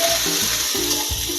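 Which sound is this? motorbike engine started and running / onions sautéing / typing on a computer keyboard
onions sautéing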